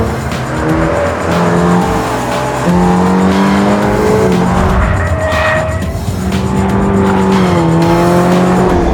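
A loud 2022 Toyota GR86 2.4-liter engine revs up repeatedly, pitch climbing through gear after gear with short shifts between pulls, sounding close and aggressive.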